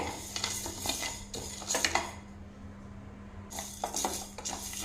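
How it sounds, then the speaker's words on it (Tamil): White sorghum and urad dal dry-roasting in a pan, with bursts of gritty scraping and rattling as a spoon turns the grains, a quiet pause midway, then more stirring, close and without talk. "உளுந்தும் அந்த சோளமும் பார்த்தீங்க அப்படின்னா நல்லா செவந்து வறுபட்டு வந்துட்டுருக்குங்க"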